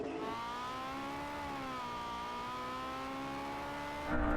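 Porsche 918, McLaren P1 and LaFerrari hypercars racing, a steady high engine whine with layered rising and falling tones held for several seconds, ending in a louder rumbling burst.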